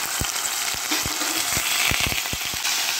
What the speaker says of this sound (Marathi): आता तेल तापलेले आहे, यामध्ये मोहरी घालूया, जिरे घालूया, यातच आता हा कांदा घालूया।